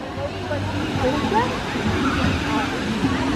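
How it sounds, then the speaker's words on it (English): A waterfall pours into the pool at a Mayan temple feature at Coronado Springs Resort, Disney World, giving a steady, fairly close splashing rush with faint crowd murmur behind it. "here is the Mayan temple with the waterfall"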